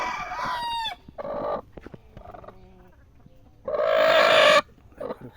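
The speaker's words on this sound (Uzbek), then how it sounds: "Quruq tovuqlarimiz." Broody hens give loud, throaty calls in separate bursts with quiet gaps between them. One long drawn-out call stands out near the end, and softer clucks come in between.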